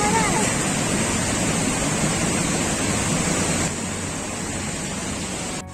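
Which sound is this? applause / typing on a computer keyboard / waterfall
waterfall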